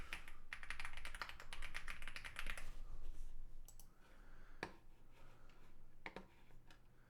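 Someone typing a credit card number on a computer keyboard, rapid clicking keystrokes in a quick dense run, then a few scattered individual key taps over a faint steady hum, close and quiet.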